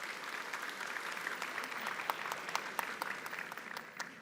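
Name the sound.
audience applause at conference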